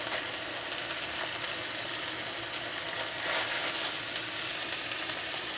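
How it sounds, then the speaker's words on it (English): Shredded cabbage stir-fries in a hot pan, a dense continuous sizzle and crackle close up with occasional scraping from stirring, steady and loud throughout without any talking. "now we're just going to toss in this cabbage, stir fry it up for a few minutes"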